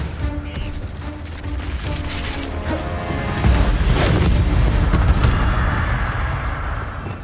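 An Expelliarmus spell is cast in Hogwarts Legacy and lands as a loud magical boom and crash. A deep rumbling impact swells midway and sustains to the end.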